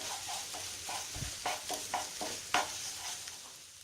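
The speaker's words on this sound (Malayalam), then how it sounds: "അപ്പോൾ നമ്മൾ ആദ്യം മുട്ട വറുത്തെടുക്കുക" Eggs fry in a pan while being stirred, with soft sizzling under a series of sharp scraping clicks from a utensil at an irregular pace, close and fairly quiet, with no speech.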